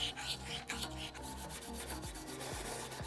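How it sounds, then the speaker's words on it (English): Scotch-Brite pad scrubbed over a metal torch holder, a steady rhythmic abrasive rubbing with repeated back-and-forth strokes, close and fairly quiet, no talking. "We just make it uniform with the Scotch-Brite."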